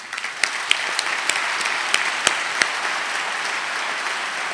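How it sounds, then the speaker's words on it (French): Steady applause from a crowd at a festival's 30th-edition opening gala, continuous clapping with a few sharper claps standing out, fairly close and full throughout. "Je voudrais qu'on les applaudisse."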